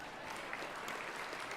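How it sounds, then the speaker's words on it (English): Brief, quiet applause from a business hall-of-fame banquet audience, a soft, even wash of clapping heard at some distance. "let's hear applause"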